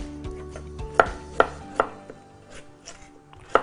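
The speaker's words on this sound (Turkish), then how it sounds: "O yüzden patates doğrarken hele çok patates doğrayacaksanız böyle yanınıza bir su tutun" Potatoes are chopped with a knife on a board in a kitchen: a handful of crisp, sharp chops at uneven intervals over soft background clatter, close and with no talking.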